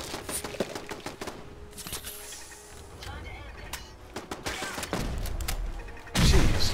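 Gunfire from a firefight in Fallout 4, with scattered sharp shots and thuds over a steady game bed, building to a loud, dense burst at the end.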